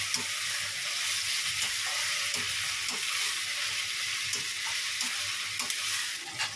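Mutton fries with browned onions in a pan, giving a constant dense sizzle with soft, regular stirring knocks beneath it and no talk.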